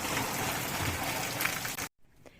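A heavy rainstorm at a home in Ukraine gives a steady, dense hiss of falling rain that stops abruptly near the end, leaving faint background noise.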